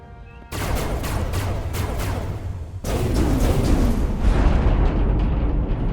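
Starship weapons fire in the Star Trek Resurgence game: a loud, dense burst of rapid blasts cuts in sharply, then gives way to a heavier, sustained roaring barrage that tails off, with no voices.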